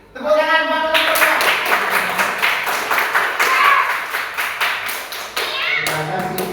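A classroom of students claps for a group, with a dense burst of applause that thins into scattered claps before a teacher's voice returns.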